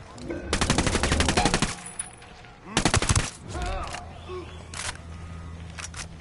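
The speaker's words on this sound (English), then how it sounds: "Opening fire." Automatic gunfire in the shooter game Ghost Recon Wildlands, two loud rapid bursts followed by scattered single shots and clicks, close and punchy, with faint game ambience between volleys.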